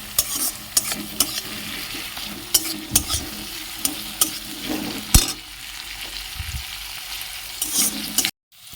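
Food frying in a pan, a steady close sizzle with repeated scraping and stirring strokes against the pan, ending abruptly in silence.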